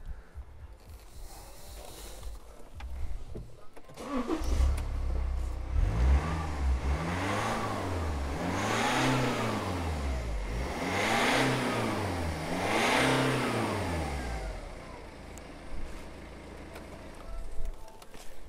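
A car with a modified exhaust revs up and down several times in a steady rhythm, a deep rumbling exhaust swelling and falling, close and loud with no talking.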